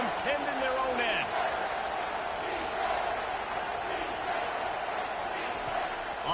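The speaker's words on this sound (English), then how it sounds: "The roar of the crowd trying to fuel this defense to keep them pinned in their own end." A steady stadium crowd roar fills the space in College Football 25 during a defensive stand, a broad, sustained wash of cheering that stays loud and even throughout, with voices talking over it.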